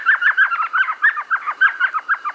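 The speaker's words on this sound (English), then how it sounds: "It's an elf owl, the smallest species of owl in the world." An elf owl, the smallest owl species, calls from a hole in a sycamore tree, giving a rapid run of high, chattering yips repeated about five times a second, close and clear with no talk.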